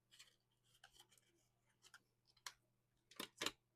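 Scissors cutting paper straight and at mitered corners for a drawer box craft, several distinct crisp snips spaced irregularly in a quiet room, the last two sharper and louder.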